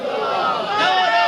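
A crowd at a Shia majlis religious gathering raises a loud chanted slogan in unison, a sustained roaring group voice that swells near the end, close and dense.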